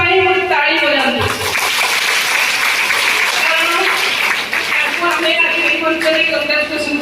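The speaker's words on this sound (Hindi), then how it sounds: "आपण ताली बजाते" An audience at a block-level legal aid program claps for an official's promotion, loud sustained applause running throughout while a voice talks over it.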